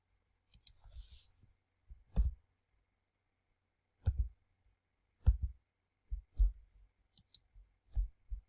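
Computer mouse clicks come in short, separated pairs and singles, close and crisp, across a quiet background during an Adobe Illustrator session.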